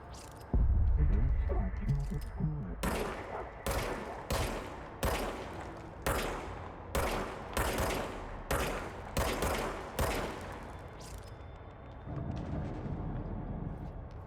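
Repeated loud gunshots from the player's weapon in the action game Control on PS5, fired in spaced bursts of single sharp reports, roughly a dozen shots in quick irregular rhythm with a low rumbling tail, close and dominant.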